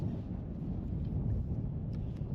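Wind gusts against the microphone over a lily pad field in a low, steady rumble, dull and continuous with no other sounds.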